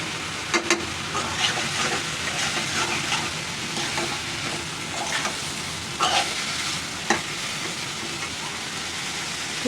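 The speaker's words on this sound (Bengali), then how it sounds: "এখন আমি কাঁকরোল আর আলু কেটে রাখা দিয়ে দিলাম।" Chopped teasel gourd and potato fry in a pan with a little salt, a continuous soft sizzle with a few sharp clinks of a utensil against the pan.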